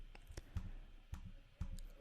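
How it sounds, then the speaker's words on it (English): Repeated mouse clicks while playing a Flappy Bird clone game, several sharp, quiet clicks in an uneven rhythm of roughly two per second, close and alone over faint room noise. "or clicking on the screen to keep Flappy moving up and down"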